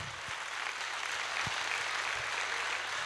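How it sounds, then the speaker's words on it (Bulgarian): An audience at a New Year Christian concert applauds in a steady, broad wash of clapping, dense and continuous for the whole stretch with no talk. "нека да му ръкопляскаме"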